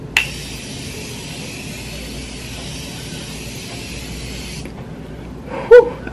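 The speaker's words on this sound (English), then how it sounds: "I'm going to wet my whole face with this setting spray" Makeup setting spray misted over a face in one long continuous hissing burst lasting several seconds, close and fairly loud, followed by a brief sharp click.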